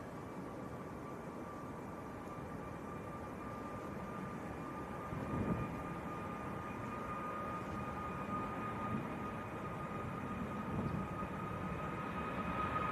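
A Cathay Pacific airliner taxiing across the runway at Manchester Airport gives a distant, steady jet engine whine over a broad rumble, holding faint and even for the whole stretch.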